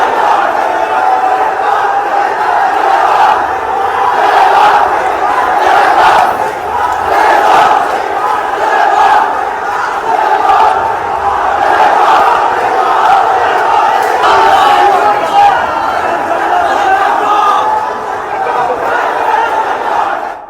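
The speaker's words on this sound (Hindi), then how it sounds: "अब देखिए जरा कि ढाका में आदि के लिए अब तक भीड़ सड़कों पर है" A large protest crowd shouting in the streets of Dhaka, a dense roar of many voices with rhythmic chanted surges, loud and continuous for the whole stretch.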